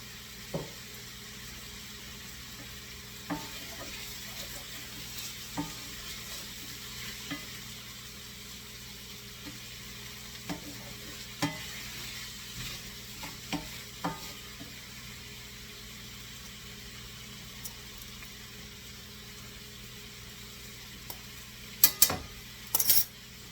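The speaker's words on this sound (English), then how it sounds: "You're only going to cook that tomato for about a minute, maybe two" Tomato frying in a pan for a monkfish and sesame seed paella, a quiet steady sizzle with occasional soft clicks of stirring and a few metallic clinks near the end.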